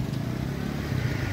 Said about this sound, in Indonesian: mesin sudah dihidupkan